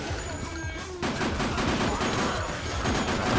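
Rapid bursts of gunfire from the Dead Rising video game, dense and loud, repeated shots rattling continuously through the whole stretch with a slight jump in intensity partway.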